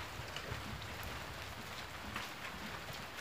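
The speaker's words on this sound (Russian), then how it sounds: "слышу, опять грохочет, опять сейчас врежет грозовой дождь" Steady rain falling on surfaces ahead of a thunderstorm at a beekeeping apiary, a constant broadband hiss with a faint low rumble underneath, no voices.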